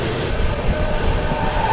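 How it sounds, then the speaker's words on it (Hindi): The Barmer Howrah Superfast Express approaches on an Indian railway line. A loud, steady rolling rumble with a broad roar fills the whole stretch, and no voices are heard. "Barmer Howrah super fast express के साथ क्रॉसिंग ग्रीन मिला हुआ है, आ रही है"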